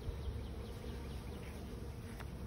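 Honeybees buzzing around a hive outdoors in spring: a continuous dense hum of many bees, with individual insects droning past close to the microphone, steady and fairly faint with no talk.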